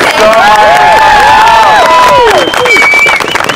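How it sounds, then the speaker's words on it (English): An outdoor crowd at a trans solidarity march on a university campus claps and cheers loudly, with high whoops and shouts rising over steady applause close by. "Round of applause for yourself."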